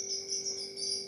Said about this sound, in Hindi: ये स्पैरो की साउंड है जो हमारे सामने आ रही है